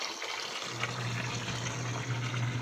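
Tap water runs in a steady, close gush, as if filling a container or drum, with a low hum underneath, and no one speaks.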